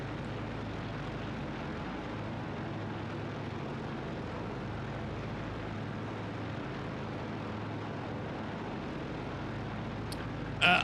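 The propeller engines of a 1935 Boeing 247D drone in Microsoft Flight Simulator, a steady, even cockpit hum holding constant throughout, with a brief click near the end and no talking.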